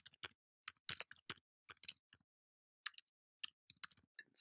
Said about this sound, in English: and you can just type it in